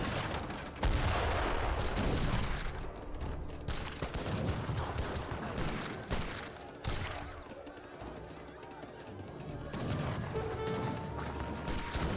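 Heavy cannon artillery firing in the strategy game Age of Empires 3, a battle of repeated booming blasts and crashes at irregular intervals, with cluttered combat noise between shots.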